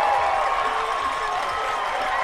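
A Columbia crowd cheers at an ultimate frisbee game after their team ties the score, a steady, somewhat distant wash of voices and clapping.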